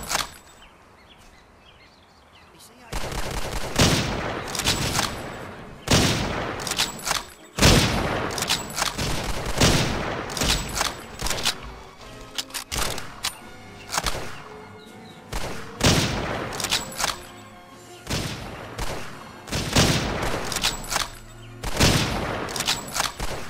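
Gunfire in the World War II shooter game Hidden & Dangerous 2: repeated loud bursts and single sharp shots in irregular clusters after a quiet opening, with echoing tails between volleys.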